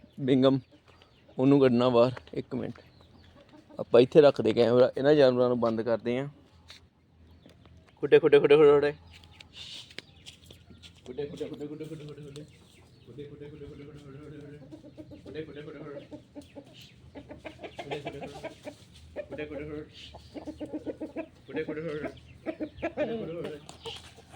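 Hens cluck in loud bursts at first, then softer, repeated clucking carries on at a steady pace through the rest.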